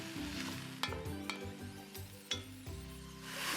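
Sliced white and cremini mushrooms, salted, frying in a pan, giving a steady close sizzle with a few sharp clinks of the pan or utensil. No one talks.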